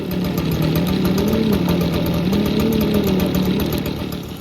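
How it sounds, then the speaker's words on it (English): A chainsaw runs steadily nearby while clearing an overgrown pasture, its loud droning motor note wavering slightly up and down without pause. "Sorry for the chainsaw noise, but we're doing work."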